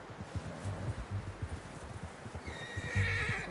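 A horse in the video game Red Dead Redemption 2 whinnies near the end, with soft hoof clip-clops and rustling underneath at low level, no talk.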